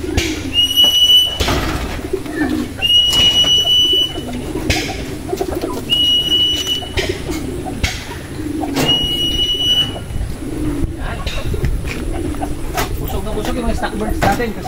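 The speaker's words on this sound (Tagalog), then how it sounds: "Mga stock birds po natin yan." Stock breeder pigeons in a loft coo repeatedly in soft, low rolling calls, with steady background noise and occasional knocks and rustles throughout.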